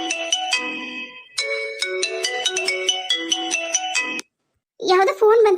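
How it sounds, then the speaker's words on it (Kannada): A phone ringtone plays a bright, repeating electronic melody of tonal notes in two phrases, then cuts out briefly before a voice begins speaking. "ಯಾವುದೋ ಫೋನ್ ಬಂತು ಕಾಣುತ್ತೆ"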